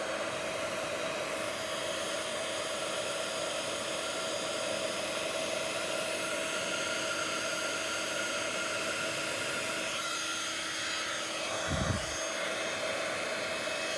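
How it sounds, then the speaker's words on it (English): A heat gun blows steadily while melting embossing powder from underneath on a snowdrop craft piece, a loud continuous whooshing hiss with no speech, and a brief low thump near the end. "Hold it in place and just slowly move it along as the powder melts."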